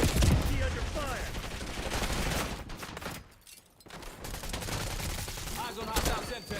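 Rapid gunfire in Call of Duty: Black Ops 6, fairly loud bursts of rattling shots that drop away briefly midway and then resume, with game voice callouts mixed in.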